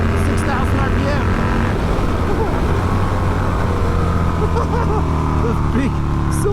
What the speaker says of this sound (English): Those big cylinders thundering away down there